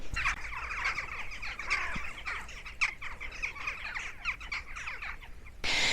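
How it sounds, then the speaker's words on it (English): Crows cawing and other birds chirping and calling outdoors, a steady busy chorus at moderate distance with no talk. "So if you can hear the birds and the crows talking to me"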